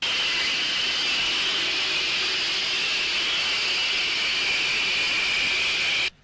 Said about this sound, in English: Then the driver pulled the lever and Edward puffed away.